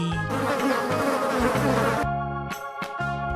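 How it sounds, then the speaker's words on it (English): A yellow bee buzzes in a steady, loud drone that hums continuously near the listener with no voices over it. "Yellow bee."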